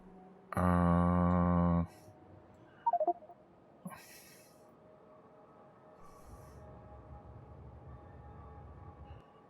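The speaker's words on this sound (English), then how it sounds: "This train has no nukes." A train in the Factorio video game sounds a short, loud, tonal horn-like blast, then a few faint clicks and a quiet low rumble of rolling wheels toward the end.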